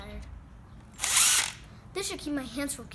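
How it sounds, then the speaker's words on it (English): A power drill pre-drilling a hole in wood while building a jet ski repair stand: one short, loud half-second whir, with a voice speaking before and after it. "I don't want it to split, so we're going to pre-drill"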